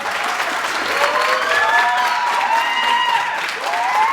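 Sustained, dense applause from a school audience honouring graduates at a ninth-grade ceremony, loud and steady throughout, with a whistling or singing tone gliding over the clapping.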